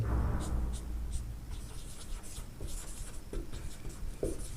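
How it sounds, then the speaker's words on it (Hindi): A pen scratches across paper close up, with short strokes and taps in a quick, uneven rhythm, and no one speaks. "तो हम लिखेंगे"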